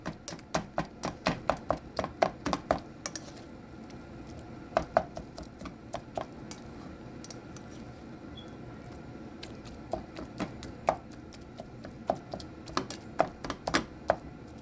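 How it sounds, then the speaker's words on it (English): Rapid rhythmic tapping of a utensil against a pan as browning ground meat is chopped up while cooking, coming in bursts with short pauses, close and crisp. "Our meat is browning, so we are going to start chopping it up."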